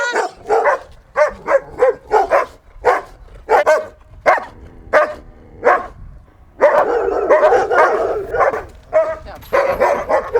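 A single dog barks in short, loud, repeated bursts close by, with a stretch of denser, continuous barking and snarling toward the end.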